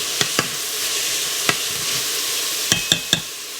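Minced garlic is stirred into tender vegetables sautéing in an Instant Pot, a steady close hiss of frying with several distinct utensil clicks against the pot, scattered and then bunched near the end.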